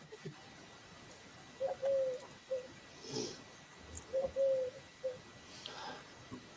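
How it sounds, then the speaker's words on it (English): Pigeons or doves coo outside a bedroom window, two soft cooing phrases a couple of seconds apart, faint and distant against quiet room noise. "Sorry if you hear birds outside."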